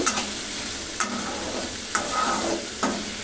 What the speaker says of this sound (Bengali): এখন ঢেকে দিয়ে মশলাটা ভালো মতন কষিয়ে নেব দু তিন মিনিট ধরে